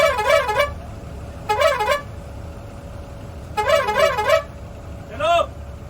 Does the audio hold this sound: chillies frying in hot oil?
no